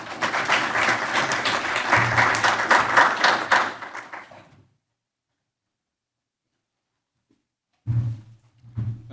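A conference audience claps loudly and steadily to welcome a speaker, the applause fading out after a few seconds, followed by silence and a few low knocks and shuffles.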